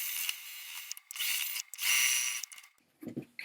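A sewing machine stitching a seam on a table runner, with quick mechanical whirring bursts in several separate runs and short pauses between them, close and alone.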